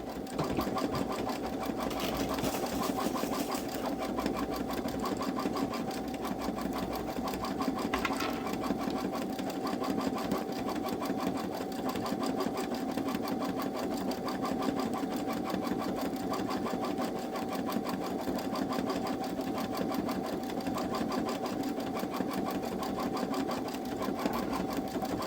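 A Baby Lock Solaris embroidery machine stitches an in-the-hoop design with a steady, rapid mechanical rattle and hum that continues evenly throughout, close and moderately loud with no talking.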